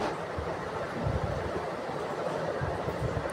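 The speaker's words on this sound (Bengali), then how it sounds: "ওই যে এদিকে ট্রেন যাচ্ছে আরেকটা।" A small train passes near a bridge crossing, heard as a continuous broadband rumble and clatter at moderate distance with steady loudness and no talking.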